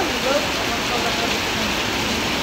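Heavy rain pours down at a market in Malaysia, a dense, continuous hiss of rainfall that stays loud and even throughout.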